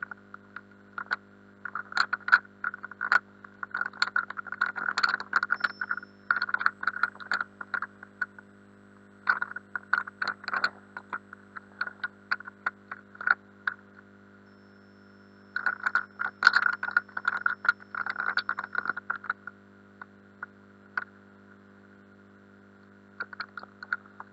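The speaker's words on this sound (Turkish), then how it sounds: "Bu arada klavye sesleri geliyor özür dilerim." Steady keyboard typing in bursts of rapid clicks with short pauses, over a constant low electrical hum.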